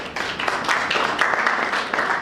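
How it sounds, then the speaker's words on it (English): Journalists at a mentoring programme event clapping together, a moderately close burst of irregular hand claps that swells and holds steady without speech. "give yourselves a round of applause for that"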